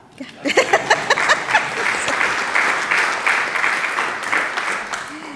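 A church congregation claps at a Sunday morning service, starting with a few distinct, rhythmic claps that swell into a full, steady round of applause, with some voices mixed in.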